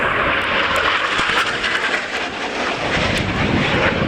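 Austrian Air Force Saab 105OE jet in a flying display at RIAT Fairford air show, a loud continuous engine roar that holds steady throughout without speech.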